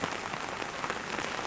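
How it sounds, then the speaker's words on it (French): Steady rain pattering densely on a surface, a constant hiss of drops with no voices. "Ça continue à pleuvoir."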